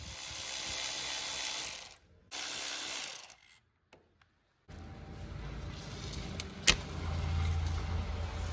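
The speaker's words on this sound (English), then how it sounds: "Let me just quickly remove these two bolts and push the whole thing up." A hand ratchet clicks rapidly in two bursts while loosening bolts on a rusty, water-damaged BMW F20 N47 diesel engine, followed by a brief silence, then low shop noise and one sharp metallic knock.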